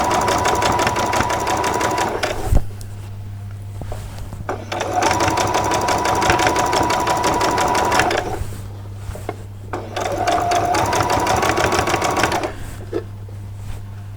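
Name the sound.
sewing machine sewing a straight stitch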